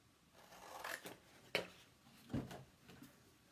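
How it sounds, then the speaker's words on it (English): Scissors snip through material at a craft table during a wreath-making session, giving a few separate crisp cuts spaced about a second apart, close and fairly quiet, with no talking. "I'll get my scissors out."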